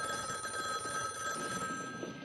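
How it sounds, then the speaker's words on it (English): A telephone bell rings steadily and loudly for a couple of seconds, a continuous trilling ring with no voices over it. "Your phone's ringing."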